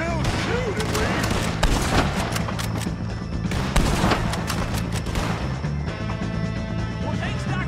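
Gunfire in the Red Dead Redemption 2 video game: loud, rapid overlapping shots and booming blasts in dense bursts, with voices talking amid the shooting.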